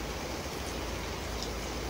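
Steady afternoon rain falls continuously, a dense even hiss with no talking.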